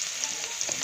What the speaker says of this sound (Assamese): মাছখিনি ভাজি হোৱাৰ পিছত সেই একেখিনি তেলতে মই পিঁয়াজ